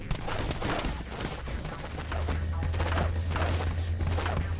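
Sustained gunfire in the shooter game Area 51, rapid overlapping shots in a continuous loud fusillade, with a low rumbling tone rising beneath it partway through.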